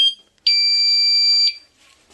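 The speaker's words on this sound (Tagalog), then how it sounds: "So nakakabit na yung alarm system natin dyan." An electric scooter alarm system gives a loud, piercing, steady electronic tone lasting about a second, close by, with brief faint chirps before and after it.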